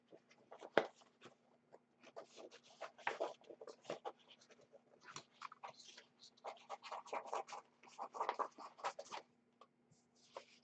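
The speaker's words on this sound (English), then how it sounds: "So let's quickly cut this out." Scissors snip through paper to cut out a flap for a totem craft, a soft, irregular run of crisp cuts and rustles close by, faint over a low steady hum.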